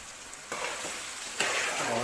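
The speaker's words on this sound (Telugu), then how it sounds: "ఇప్పుడేనండి బాగా మరుగుతుంది" Chicken fry bubbles and sizzles in a pot, a dense close hiss with a sharp burst of stirring noise partway through, no talking.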